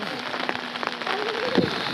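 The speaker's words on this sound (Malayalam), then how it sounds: "പൊന്മുടിയിൽ വന്നിറങ്ങിയപ്പോൾ മഴ." Rain falling at Ponmudi hill station, a steady hiss of drops on surfaces with scattered louder patters, fairly close and without talk.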